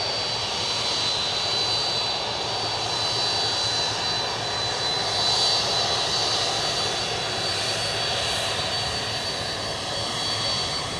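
Jet aircraft taxiing at Memphis, a steady engine roar and high whine held at a constant level for the whole stretch, moderately distant, with no voices.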